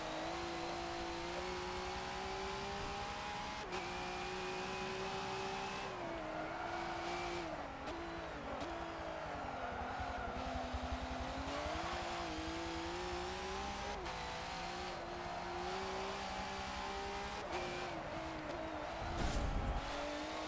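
A V8 Supercar race car at Bathurst in Forza 7 holds a loud, continuous engine drone with steady harmonic whine, rising and falling through gear changes and lifts, with brief tire noise near the end.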